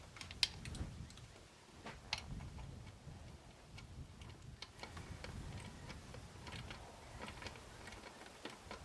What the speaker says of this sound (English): I'm going to be using a 12mm on a 1/4" drive ratchet.